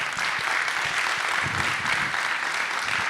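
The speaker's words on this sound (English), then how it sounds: "please, a large round of applause." Audience applause at the close of a FinOps X 2024 conference session on AWS cloud financial management, a dense, steady wash of clapping from a sizable room that carries on evenly for the whole stretch.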